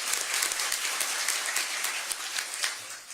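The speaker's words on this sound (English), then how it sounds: "that applause should be for her" Audience applause in a hall at a Birmingham mayor's State of the City address, a dense, steady wash of many hands clapping for about three seconds with no voices over it.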